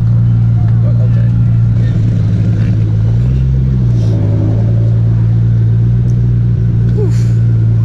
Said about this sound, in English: that turbo's so loud